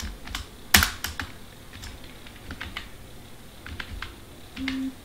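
Key presses on a computer keyboard while HTML code is typed, a quiet patter of uneven clicks with one sharper, louder strike early on and a short hum near the end.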